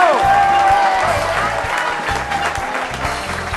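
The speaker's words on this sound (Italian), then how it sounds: "Un applauso a Callegari!" A crowd at a political gathering for the Veneto region applauds Callegari with steady, loud clapping that fades slightly, while a voice speaks over it.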